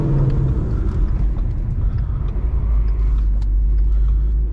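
A 2016 Ford Mustang 5.0 V8 fitted with Kooks headers and a Corsa Extreme exhaust drones in a loud, deep, steady rumble while driving on an open road, close and continuous with no talk.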